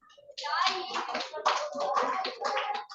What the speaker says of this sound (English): Clap for him, everyone.